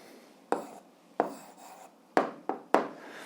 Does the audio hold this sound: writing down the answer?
yes